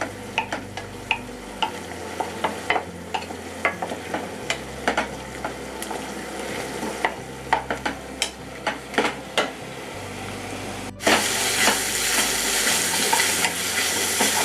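Grated onion fries on high gas in a pan for Moghlai chicken handi, a steady sizzle broken by frequent quick scrapes and clicks of a spoon stirring rapidly against the pan, close and without talk.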